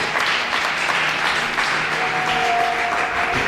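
A church congregation applauding during a French-language service: loud, steady, even clapping from many hands that continues throughout, with a faint sustained tone underneath.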